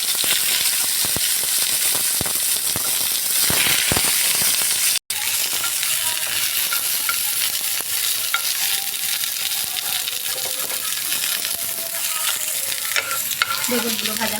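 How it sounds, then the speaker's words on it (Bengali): Eggplant sizzles in hot oil in a kadai for shukto while a spatula stirs and scrapes it, a continuous close frying hiss punctuated by clinks and scraping. "বেগুনগুলো ভাজা হয়ে গেছে"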